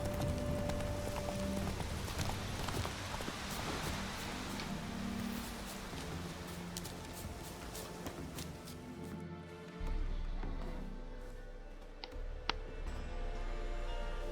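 Horse hooves clip-clopping in The Witcher 3, a steady patter of faint hoofbeats running beneath loud, dense game music and ambience.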